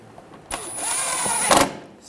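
A screw driven down on the washer reservoir of a 2007-2013 BMW 328i, heard as one continuous close whir from a power driver lasting about a second, ending in a brief louder burst.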